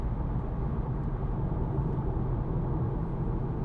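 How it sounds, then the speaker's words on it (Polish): Inside a Volkswagen Golf R 4Motion Black Edition on the move, a steady low rumble of tyre rolling noise and wind noise carries continuously at a constant, fairly loud level, with no voices. "Wolałbym słyszeć tylko te sportowe akcenty jazdy, a nie hałas toczenia czy hałas opływu"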